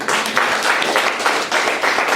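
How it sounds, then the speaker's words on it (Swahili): A church congregation claps for the Lord Jesus, a loud, steady wave of many hands applauding together in a quick rhythmic pattern throughout. "Tumpigie Bwana Yesu makofi."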